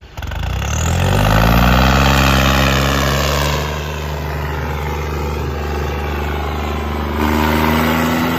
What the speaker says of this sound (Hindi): आजा ना ट्रैक्टर चला ले आजा